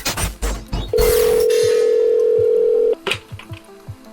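A payphone outside a gas station gives off a steady electronic dial tone for about two seconds, loud and close, framed by handset clicks and handling noises before and after.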